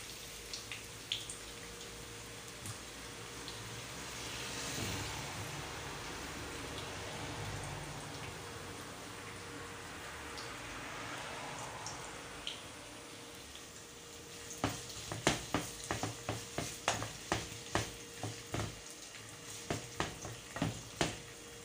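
Onion, garlic and ginger sautéing in a pan for chicken tinola: a low, even sizzling hiss for a long stretch, then a run of sharp crackles and pops, quiet and nearby, no talk.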